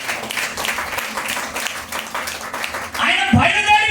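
A church congregation claps loudly in rapid, rhythmic bursts that swell louder toward the end, mixed with raised voices.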